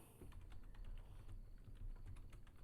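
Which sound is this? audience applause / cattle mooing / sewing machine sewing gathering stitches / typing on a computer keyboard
typing on a computer keyboard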